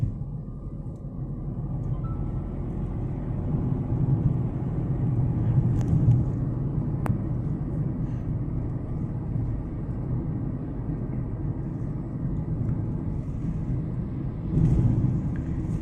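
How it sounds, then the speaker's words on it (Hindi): Inside the closed cabin of a Tata Tiago CNG car with the windows up, a steady low road and engine rumble hums throughout, even and moderate, with no talking. "अब आप सुनिए इस गाड़ी के इनसाइड नॉइज"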